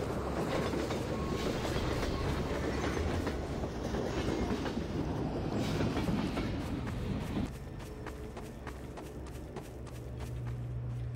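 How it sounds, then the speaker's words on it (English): A train rolls past in the video game Half-Life 2, a loud continuous rumble with rhythmic clickety-clack of wheels over rail joints that eases slightly near the end. "It's a train. Can I get on it?"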